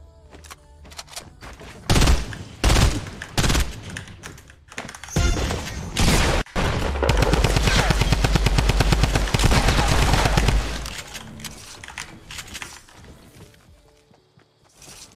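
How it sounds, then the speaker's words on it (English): Fortnite combat with loud separate shotgun blasts near the start, then a long rapid burst of automatic gunfire, followed by clicking and lighter tapping sounds. "Trying to build on up, a quick shotgun blast."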